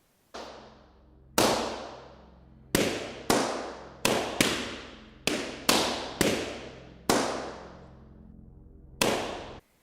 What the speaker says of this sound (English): popping a balloon between them, the sound reminiscent of gunshots